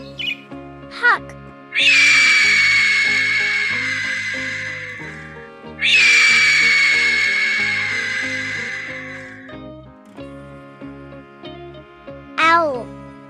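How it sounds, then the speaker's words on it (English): A hawk gives two long, loud screeching calls, each a sustained harsh cry lasting a few seconds, with brief spoken words and short chirps between and after them. "Hawk."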